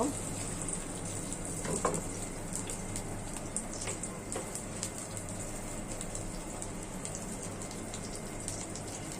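Mustard oil sizzling in a frying pan, a faint, steady hiss with a rain-like crackle of small pops running through it, close by and without talk.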